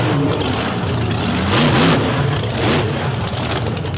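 A Hemi-powered pulling vehicle called Virginia Giant roars loudly at a tractor pulling competition, its engine surging and revving in waves with a heavy, throaty rumble throughout.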